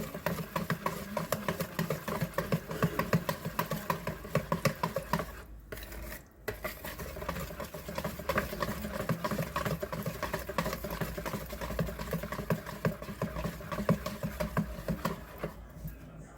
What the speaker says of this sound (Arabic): لازم تخدميها كويس بالمضرب اهو